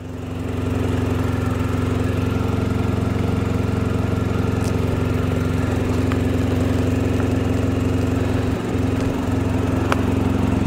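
A motorcycle engine idles on an icy winter morning in the Swiss Alps near Grindelwald, a steady, loud drone that runs without a break from start to finish, with no talking.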